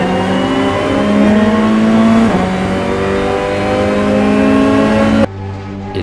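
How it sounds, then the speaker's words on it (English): Car engines rev loudly and close, with rising and falling harmonic pitch sweeps as they accelerate, then cut abruptly to a quieter rumble near the end. "the tide of engines is unrelenting."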